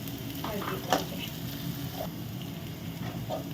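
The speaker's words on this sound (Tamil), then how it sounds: "உப்பை போட்டுட்டு நான் கொஞ்சம் நல்லா வதக்கணும்." Onions sautéing with salt in a pan for a dhaba-style mutton fry, a continuous sizzle with intermittent scraping stirs and a sharp clink of a utensil against the pan.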